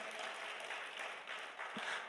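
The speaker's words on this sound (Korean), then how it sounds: "함께 영광의 박수 올리게 되기를 바랍니다" Congregation applauding together in a church service, a steady broadband wash of many hands clapping at once, sustained at an even level throughout with no talk over it.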